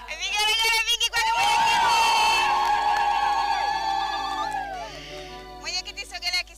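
Crowd at a church gathering in Mbande, Dar es Salaam, ululating loudly for the chairman with high, trilling shrill voices that swell together and fade, plus bursts of clapping near the start and end.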